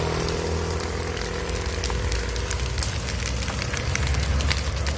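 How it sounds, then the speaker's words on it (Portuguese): A large vegetation fire burns beside the MG 290 highway in Brazil. It gives a loud, continuous roar with sharp crackles and pops scattered through it, and no one speaks. "Olha aquela labareda lá na frente, a situação daquilo."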